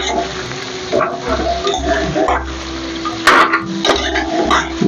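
A spoon stirs and scrapes through flat-bean curry with oil in a cooking pan, in repeated rhythmic strokes over a soft sizzle, with occasional sharper metallic knocks against the pan.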